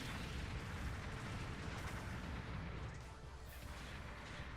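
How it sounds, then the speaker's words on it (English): Jegan Heavy Equipment Type firing its single-shot beam cannon while moving in Gundam Battle Operation 2, a dense, roaring blast of weapon noise that fills the whole clip at steady loudness, easing slightly near the end. "you can actually fire the beam cannon while moving"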